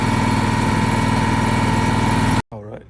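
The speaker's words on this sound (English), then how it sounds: "Now that it's idled back down, that is the first start of a brand new Trailblazer 325 EFI." A brand-new Miller Trailblazer 325 EFI welder generator engine idles steadily with a loud, even mechanical drone, then cuts off abruptly near the end as a voice begins speaking.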